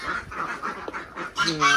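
Ducks of several kinds on a farm give a few quacking calls, with a louder burst of honk-like calling near the end; a person talks alongside.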